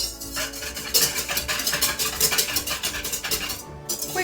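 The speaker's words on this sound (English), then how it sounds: "We're gonna add about a tablespoon of sugar and whisk that up" Sugar is whisked with yeast in a bowl at a mountain campsite, a quick run of rapid rhythmic whisk strokes scraping and tapping against the bowl, close and fairly loud, no talking.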